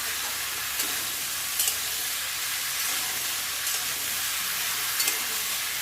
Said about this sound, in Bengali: লবণ হলুদ দিয়ে ভাজা ভাজাটা করলে তাড়াতাড়ি ভাজা হয়ে যায়।